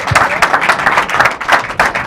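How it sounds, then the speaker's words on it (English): A live audience at a business seminar claps in a brief, loud, close burst of irregular hand claps lasting about two seconds. "Y'all clap for Terry, make him feel wanted."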